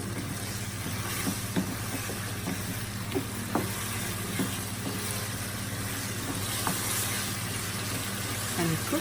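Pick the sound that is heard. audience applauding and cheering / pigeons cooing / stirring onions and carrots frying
stirring onions and carrots frying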